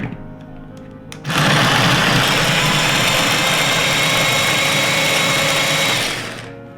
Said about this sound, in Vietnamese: bây giờ mình sẽ xay hành của hành tím với tỏi